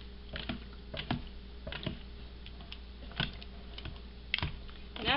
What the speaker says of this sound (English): now I'm going to take the whisk and just start doing the same thing and getting this broke up as much as possible